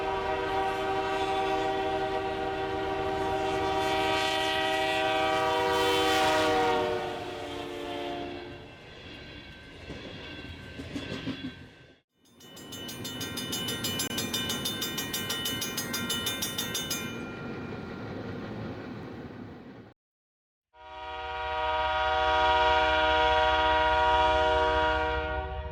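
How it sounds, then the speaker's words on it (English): A CN iron ore freight train pulling out of a yard, its horn blaring in long loud blasts separated by brief gaps, with rumbling locomotive and railcar noise underneath. "Just after noon Eastern Time, the CN 2941 is coaxed into movement by the engineer."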